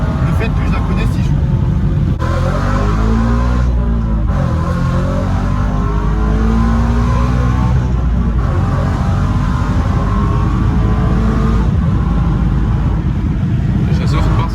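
A Toyota GT86 accelerates hard as its tires begin losing grip, a loud, continuous engine roar that rises and falls in pitch with shifting revs, heard from inside the car beneath someone talking.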